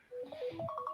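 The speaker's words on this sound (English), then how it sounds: "Is that your phone?" A phone sounds a short reminder alert: a quick sequence of bright electronic beeps rising in pitch, heard nearby in a quiet room with no talking.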